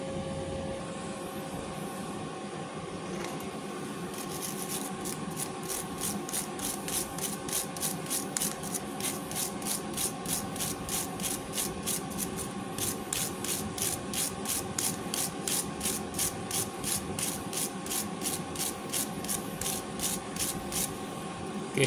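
An aluminium MIG weld is rubbed clean with a fast, steady back-and-forth scraping that grows into an even rhythmic pulse over continuous workshop hum.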